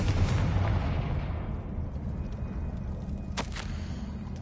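A Confringo fire spell explodes in Hogwarts Legacy: a loud, rumbling blast fills the opening second, settles into a sustained roar, and a sharper burst cracks through near the end.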